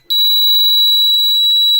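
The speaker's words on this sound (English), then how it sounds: "until you hear 2 beeps" A powered chair gives a single loud, high-pitched electronic beep during a factory reset, starting abruptly and holding steady without wavering.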